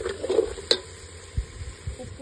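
A spoon scrapes and stirs chicken masala gravy in a pan, with a few loud clanks against the metal and softer scraping strokes over a light sizzle.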